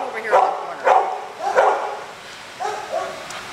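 A young dog in a shelter's isolation kennel gives four or five close, echoing barks and yips in an uneven rhythm, with faint room noise between them.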